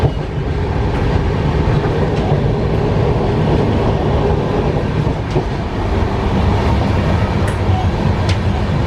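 Inside an AC chair car of the Shatabdi Express, train number 12009 running from Surat to Anand, a loud, steady rumble of the moving coach with faint rhythmic clatter of the wheels throughout.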